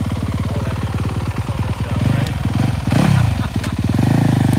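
A motocross dirt bike engine on a training track, loud and close, with a continuous buzzing drone that rises and falls as the throttle is blipped, rough and raspy throughout.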